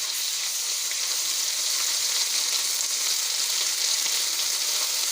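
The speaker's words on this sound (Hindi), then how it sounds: "इसको 2 से 3 मिनट तक हम भून लेंगे" Ginger-garlic paste frying in a pan with golden-browned onions for dhaba-style chana dal, giving a loud, continuous, even sizzle that holds steady throughout with no voices.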